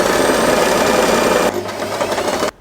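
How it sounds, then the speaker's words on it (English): A sewing machine stitches a seam on a fabric-covered headband, running loud and steady with a dense mechanical whir, then dropping to a quieter, slower run before stopping abruptly near the end. "Let us sew the first line."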